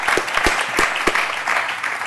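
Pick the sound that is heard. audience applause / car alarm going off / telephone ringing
audience applause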